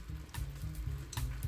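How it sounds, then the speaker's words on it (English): Food simmering in a pan of oil with salt added, cooked on medium-low heat for a bento-style lunch box; a steady close sizzle runs throughout, with brief brighter hisses and crackles rising now and then. "Pour salt in and let it simmer."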